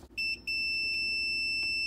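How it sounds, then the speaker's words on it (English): A multimeter in continuity mode gives a few short chirps and then a sustained steady electronic beep as its leads touch both tabs of a Sea-Doo fuse, close and clear. "But if you're getting a beep, you know that fuse will check out."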